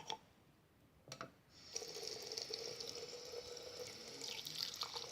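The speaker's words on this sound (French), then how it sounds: "Ensuite, je vais mettre tout mon contenu sous l'eau." Tap water runs onto homemade slime, beginning after a couple of faint clicks and settling into a steady, soft, close stream.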